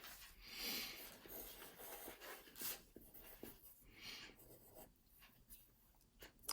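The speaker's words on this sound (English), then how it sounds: "I'm going to write this information down." Pen or pencil scratches over paper as numbers are jotted down, a faint, close, continuous rubbing broken by short strokes and pauses, with no talking.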